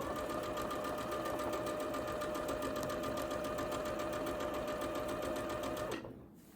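A sewing machine stitches quilt binding on a churn dash quilt, running in a fast, even, close mechanical whir for about six seconds before stopping abruptly.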